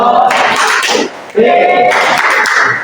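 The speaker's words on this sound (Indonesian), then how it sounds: "Boleh tepuk tangan untuk Naila." Classroom applause for a student named Naila at a high school lesson, a broad wash of clapping that fills most of the clip, dipping briefly in the middle before resuming, with some voices mixed in.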